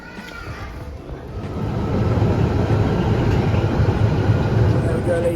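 A London Underground tube train carries passengers toward Stratford, its low rumbling roar building as it gathers speed and then holding steady and loud inside the carriage.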